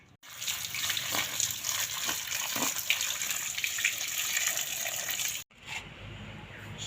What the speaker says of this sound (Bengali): শাক ধুয়ে নিলাম